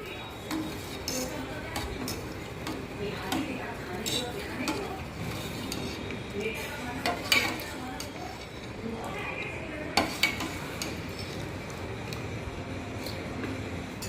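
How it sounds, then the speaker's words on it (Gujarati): A metal spoon stirs curd into cooled milk in a pot for homemade dahi. Soft scraping and a few light clinks sit under ongoing talk. "એની અંદર આપણે થોડું દહીં એડ કરીશું, એપ્રોક્સિમેટ 2 ટેબલસ્પૂન જેટલું, અને એને હલાવી દઈશું"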